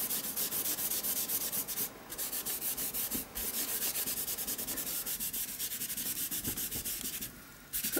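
Paint being rubbed around by hand on an art journal page, a steady close scratchy rubbing and swishing sound, continuous and fairly loud with no talking.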